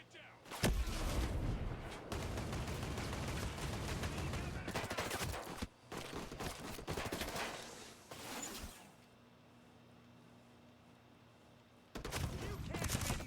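Gunfire and a grenade blast in the tactical shooter Ghost Recon Breakpoint, dense loud rapid bursts and explosions in waves, a brief quieter stretch with low hum, then shooting resumes.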